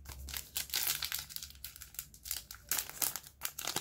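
A Dragon Ball Z card pack's foil wrapper is crinkled and torn open close up, with repeated sharp crackling bursts and rustles running unevenly throughout.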